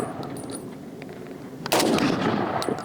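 A single rifle shot fired at a 400-yard target, one sharp crack with a short rolling echo, heard at moderate distance over faint outdoor background.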